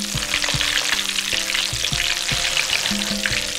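Stuffed chicken wings deep-fry in plenty of oil over medium heat, giving a close, continuous bubbling sizzle with scattered pops and light crackles and no voices.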